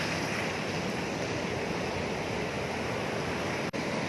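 Storm waves crash on a beach at Khlong Chao on Ko Kut island while strong wind blows, making a loud, steady roar with no talking.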